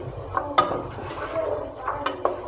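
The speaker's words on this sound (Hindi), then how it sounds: "चम्मच की मदद के साथ इसको हिलाते रहेंगे ताकि ये नीचे लग ना जाए।" A spoon stirs sugar cooking in a pan and scrapes against it, making soft scraping sounds and a few sharp clinks over a faint sizzle. No one speaks.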